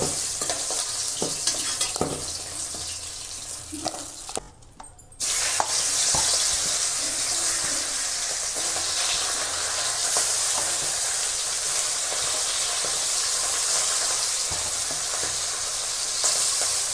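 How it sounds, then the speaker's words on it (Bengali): Fish heads sizzle and spit steadily in hot oil in a pan, a loud continuous fry with occasional stirring scrapes, briefly dipping quiet before resuming at full intensity. "মাছগুলো আমি এইভাবেই সবগুলো মাথাগুলো ভেজে নেব।"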